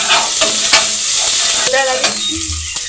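Ginger masala sautéing in a pan, a loud, close, crackling sizzle with quick scraping stirs of a spatula and a brief bubbling burst near the end, no talking.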